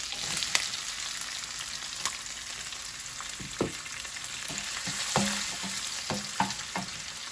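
Ginger and raw mango fry in a pan for a coconut, mango and green pea sundal, giving a continuous low sizzle broken by sharp spoon-and-pan stirring clicks and scrapes, close and without talk.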